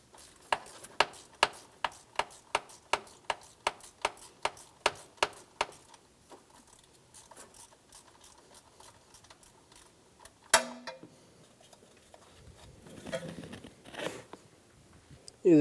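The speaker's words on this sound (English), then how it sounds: "Using a 10mm socket, remove the 2 bolts." A 10mm socket wrench on a Honda Pilot ratchets out two bolts, giving a fast run of sharp, even clicks for several seconds, then quiet scraping and a few clunks of parts being handled.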